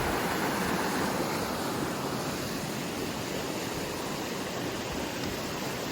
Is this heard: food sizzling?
no